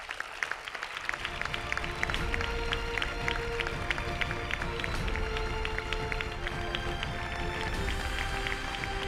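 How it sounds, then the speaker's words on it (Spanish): Sustained applause from a gala audience at a tribute to retired teachers in Isla Cristina, dense steady clapping filling the hall for the full stretch, loud and close with no voices over it. "Un fortísimo aplauso."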